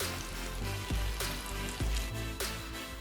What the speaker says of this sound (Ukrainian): Та все разом смажимо ще 3 хвилини на малій температурі час від часу перемішуючи.